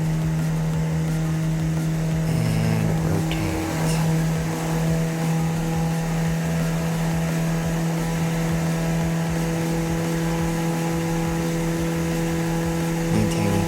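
A Cessna's single piston engine roars at full power through a takeoff, a loud, steady droning hum with strong propeller harmonics that holds for the whole stretch, heard from inside the cockpit.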